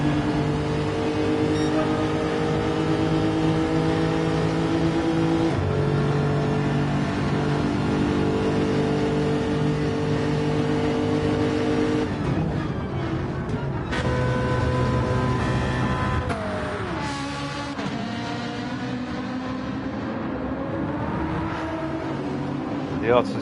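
Race cars roar through the first chicane at Monza in a racing game, engine tones rising and shifting steadily under continuous commentary.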